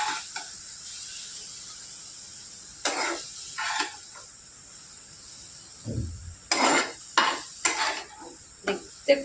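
A cooked chicken dish being scraped and tipped from a pan onto a serving plate, with scattered metallic clinks and clatters of utensil against pan, short and uneven, close up with no talking.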